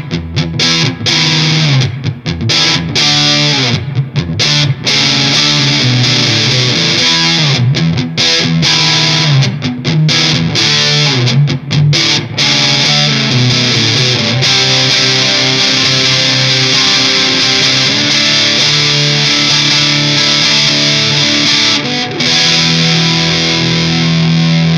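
An electric guitar played through a Wren and Cuff Caprid fuzz pedal set to low gain, chords and riffs ringing loud and continuous with a gritty, dirty, saturated edge.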